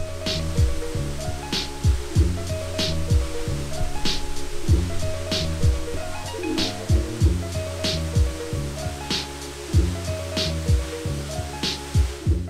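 Steady, broad rush of the São Jorge Canyon waterfall in Ponta Grossa, Brazil, fills the whole stretch, with faint sharp clicks and chirps scattered over the top.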